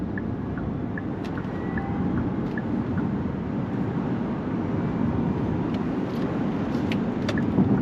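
A 2026 Hyundai Ioniq 9 Calligraphy Design Edition electric SUV drives along under throttle, giving a steady low rumble of road and tyre noise inside the cabin with a few faint ticks and small clicks, and no one speaking.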